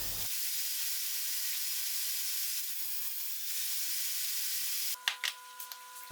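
A saw cuts wood to final length at an angle for a dining buffet cabinet, giving a steady, loud, continuous cutting whine that runs for about five seconds and then stops, leaving a few short knocks and rattles.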